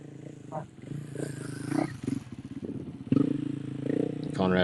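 A rally motorcycle pulls away from the start line of a desert rally stage in Abu Dhabi, its engine rising and revving in rough bursts with crowd noise and talk mixed in, growing louder toward the end.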